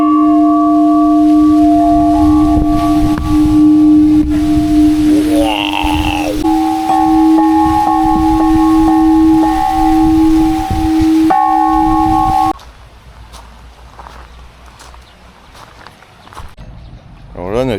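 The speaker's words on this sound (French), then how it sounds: "il y a des jolies cloches, elles sont grosses, on peut taper." Large, deep temple bells in Chiang Mai or Chiang Rai, Thailand, ring and sustain with long humming decays, struck a few times, while people chatter and move nearby; the ringing fades out near the end.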